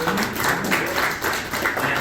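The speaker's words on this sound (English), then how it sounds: "So David Love, give him a round of applause" An audience at a hangar talk applauds, a dense patter of many hands clapping steadily throughout, fairly close and loud.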